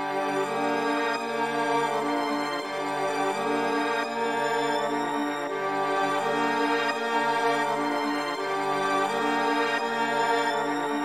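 A dark melody played through Raum reverb on the melody bus, dense sustained harmonic tones washed in a long, lush tail, continuous and loud with no talking.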